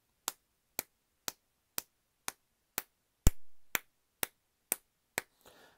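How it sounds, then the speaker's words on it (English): Hands clap close by in a steady beat during a preschool music lesson, about eleven sharp claps spaced half a second apart. One clap lands louder than the rest, and the claps stop at the end. "So you could do stuff like you could clap."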